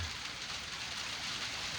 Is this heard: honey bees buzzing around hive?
no